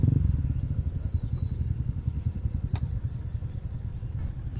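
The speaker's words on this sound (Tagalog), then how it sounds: "unti-unti silang nagpapainit ng kanilang mga motor" Motorcycles idle and rev in a steady low engine rumble at a lakeside outing by Mapanuepe Lake, running continuously at moderate distance with a brief clatter partway through.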